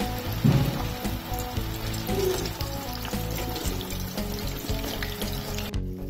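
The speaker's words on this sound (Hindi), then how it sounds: "अब हम एक पैन में फ्राइंग के लिए ऑयल डाल लेंगे और सारे जो हमारे जो चपली कबाब हैं वो फ्राई कर लेंगे" Chapli kababs sizzle in hot oil in a pan, a steady dense crackle and spatter close up that runs throughout with no talk.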